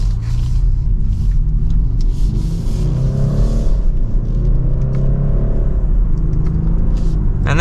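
A 2025 BMW 430i coupe's engine pulls steadily under acceleration while driving, a loud continuous drone with a rising, sweeping pitch through the middle, heard alone without talk.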